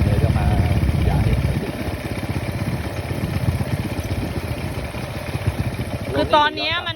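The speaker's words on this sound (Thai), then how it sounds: "ขับรถไถขี่รถไถก่อนเลย" A small tractor engine idles and chugs steadily on a rice farm, a close, rough mechanical rumble with clattering, while people talk over it.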